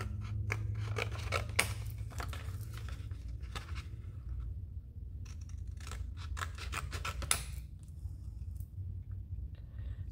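Close, quiet snipping of scissors trimming alcohol ink gelli plate paper, irregular clusters of crisp cuts over a low steady hum.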